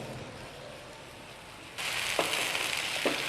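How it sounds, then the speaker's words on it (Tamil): Onions sizzle in a hot pan while being fried golden for paneer masala fry, a steady crackling hiss that jumps suddenly louder partway through, with a couple of faint stirring scrapes. "இந்த வெங்காயம் நல்லா பொன் முருளாக வர அளவுக்கு இதிலே நல்லா வதக்குங்க."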